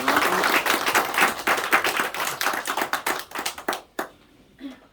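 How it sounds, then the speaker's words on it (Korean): A church congregation claps together in loud, dense applause during a Sunday morning worship service, fading to a few scattered claps and a voice at the end. "우리 하나님께 영광의 박수를 올려드리겠습니다."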